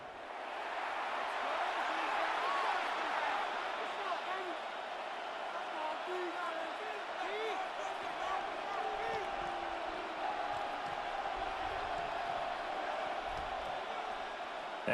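Stadium crowd noise from an NFL football game, Denver Broncos versus Las Vegas Raiders in Madden 26, forms a steady roar with scattered cheers and whoops. It runs continuously beneath a commentator talking throughout.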